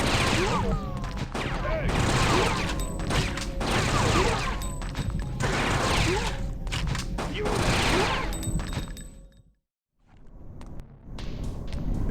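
Mag pistol fire in a video game, heavy bursts of gunfire and bangs in repeated loud volleys, briefly dropping to near silence before resuming, with a voice talking over it at times.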